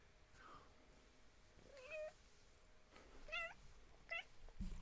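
A cat gives three or four rising, chirpy meows spaced a second or so apart, fairly quiet and close, with a brief thump near the end.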